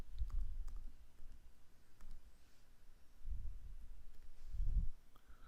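Soft, sparse clicks of a computer keyboard being typed on, a few quiet bursts of keystrokes separated by pauses, faint and close with no talking.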